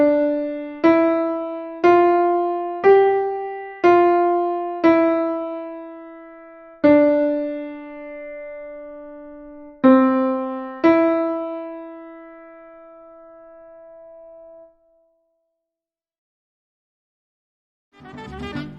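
Simple beginner piano piece played by the right hand using fingers one to five: single sustained notes struck one at a time, a slow stepwise melody ringing out with long decays, then a brief faint noise after silence.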